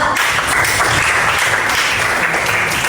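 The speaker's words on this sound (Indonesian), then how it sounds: "Kasih tepuk tangan buat kelompok 1 dan 2." A classroom group claps for student groups presenting in a guidance lesson, a dense, steady applause that fills the whole stretch at close range with no talk over it.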